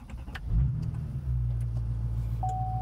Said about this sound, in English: when I put my foot on the brake and I push the push to start, it's going to start instantly even though the glow plug light comes on